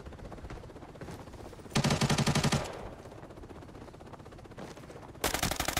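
Automatic gunfire from the shooter game Arena Breakout comes in two sharp, loud bursts, one lasting about a second and another starting near the end, over quieter in-game background noise.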